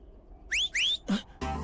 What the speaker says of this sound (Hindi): किस लिए सीटी बजा रही हो?